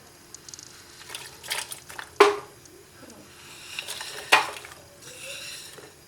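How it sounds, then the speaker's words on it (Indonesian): Water and palm sugar are stirred together in a pot for pempek sauce, with a few clear utensil clinks against the pot over soft scraping and stirring noises. "Kita campurkan air dan gula arennya."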